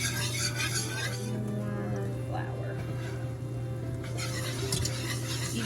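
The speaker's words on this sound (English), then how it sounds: "you're just going to be standing here constantly whisking, constantly stirring, because you don't want it to burn" A whisk stirring a roux for chicken and rice in a pot on the stove, continuous scraping swirls with a faint sizzle beneath, while a person talks over it.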